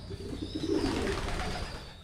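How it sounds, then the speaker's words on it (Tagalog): Soft cooing of pigeons or doves over a steady background hum, fairly faint and continuous. "So yung mga ibon ni ka-farmer Ryan Feher, ayan, andyan pa rin naman"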